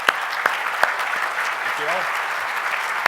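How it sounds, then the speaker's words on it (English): Steady audience applause at a port authority's annual State of the Port event, honoring an engineering student, continuing for a few seconds with a voice speaking over it. "I think we deserve to give him a round of applause."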